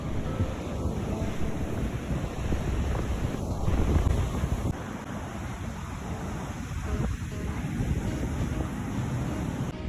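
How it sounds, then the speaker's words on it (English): Ocean waves roll onto the beach at Pismo, California, with a steady roar of surf and gusty wind buffeting the microphone throughout. "I just love being by the ocean, just hearing the waves and seeing the rocks and the sand"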